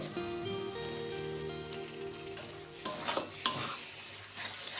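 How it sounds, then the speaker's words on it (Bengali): Spice paste with chana masala and chopped tomato being sautéed in oil, a steady close sizzle with scraping stir strokes and a few louder clanks near the end. "মশলাটা সুন্দর করে কষানো হয়ে গেছে, মশলা দিয়ে তেল ছেড়ে দিয়েছে।"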